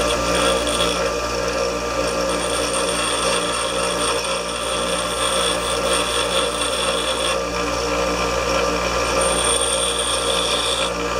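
Bench grinder taking a small bevel off a metal part during repairs on a 5 horsepower Sno-Trac, a steady continuous grinding whine with a harsh, even hiss running unbroken and loud throughout.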